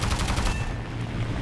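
Aircraft machine guns in War Thunder, a Fiat CR.32 biplane fighter dogfighting I-15 and I-16 fighters, rattle in rapid sustained bursts, loud and close, over the steady drone of the engine.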